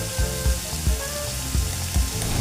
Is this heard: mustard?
yes